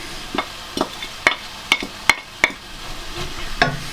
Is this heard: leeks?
yes